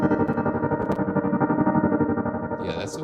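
Cube software instrument plugin by Lunacy playing a sustained, distorted synth tone with a pulsing, wobbling texture and a brief bright shimmer near the end.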